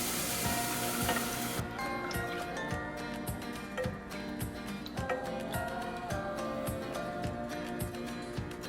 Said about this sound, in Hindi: अब हम इसमें डायरेक्ट मिल्क डाल देंगे